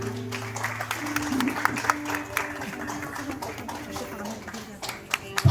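Clapping from wedding guests welcoming the groom at a Darjeeling wedding, sustained and mixed with music tones and a voice talking over it.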